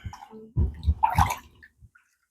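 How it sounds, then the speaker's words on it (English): Water splashes and sloshes briefly at close range in a fish tank, a short burst of gurgling with a few drips trailing off. "A little bit of splashing."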